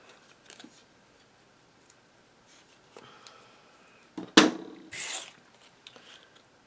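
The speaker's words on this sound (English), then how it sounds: "I want to use my scissor and cut that little piece" Scissors snip a small rough piece off a handmade recycled Christmas snow jar paper card, giving one sharp close cut and a brief follow-up rustle in a quiet room.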